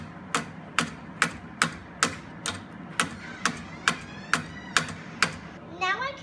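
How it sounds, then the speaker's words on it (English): About a dozen sharp hammer strikes drive sleeve anchors into a wooden chair back support at a steady pace, each a crisp knock with a short ring, followed by a brief clatter at the end. "I'm going to hammer the sleeve anchors into the back support."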